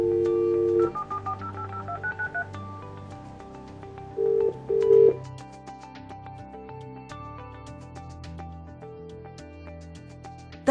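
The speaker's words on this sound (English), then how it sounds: "And then dial." A Possum Sero disability phone sounds keypad dialing tones, a run of short clean beeps followed by a few longer tones, then a sustained steady tone pattern, close and clear with no talking.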